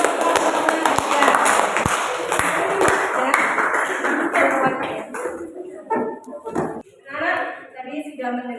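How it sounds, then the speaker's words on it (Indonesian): Classroom applause for a student presentation: a dense burst of clapping from a group of students that fades after a few seconds, followed by scattered claps and voices talking. "Kita berikan tepuk tangan untuk ya."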